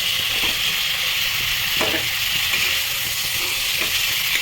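Fish is added to a pan of spiced oil with turmeric, producing a loud, steady sizzle with occasional spattering pops and stirring scrapes, close and continuous with no talking.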